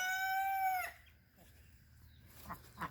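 A rooster's crow, near and loud, trails off abruptly; a few faint clucks and rustles follow in the quiet.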